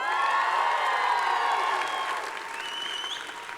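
Conference audience breaks into sustained applause with scattered cheers and whoops, a dense steady clatter of many hands that eases slightly toward the end.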